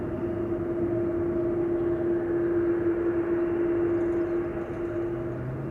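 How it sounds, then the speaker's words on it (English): An Embraer 175 airliner at Amsterdam Schiphol gives a steady, sustained engine drone with a strong tonal hum, loud and continuous throughout without talk. "Embraer 175 to Munich in the foreground"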